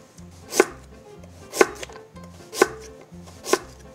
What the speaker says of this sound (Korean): 나박 썰어 준비해 주세요